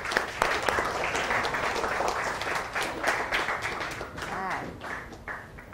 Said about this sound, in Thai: มาปรบมือให้เพื่อนเลย